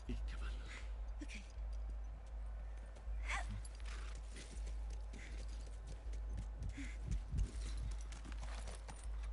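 Horse hooves clip-clop steadily in a video game, a run of light rhythmic knocks heard close by over a low constant hum, with faint voices in the background.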